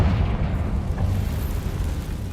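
A Confringo blasting spell explosion in the Hogwarts Legacy video game, a deep rumbling boom that fades slowly into a low roar over a couple of seconds.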